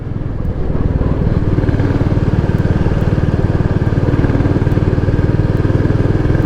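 Royal Enfield Classic 350 single-cylinder motorcycle riding on a ghat road, its engine thumping in a steady, loud, rapid rhythm close to the listener throughout, with no talk over it.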